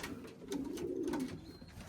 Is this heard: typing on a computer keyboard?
no